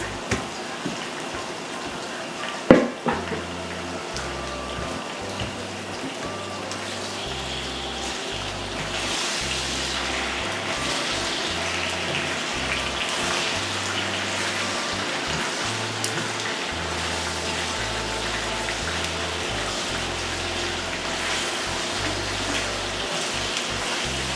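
Beef for lomo saltado sizzles steadily in a hot pan, a continuous hiss like rain, with an opening clatter and a low musical bed underneath.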